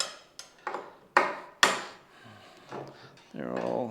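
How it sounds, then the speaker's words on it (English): Bolts are loosened with a 5mm T-bar Allen key, giving several sharp metallic clicks and knocks close by, spaced irregularly, with a voice speaking briefly at the end. "then of course we undo the bolts. Now we'll just loosen them to start with."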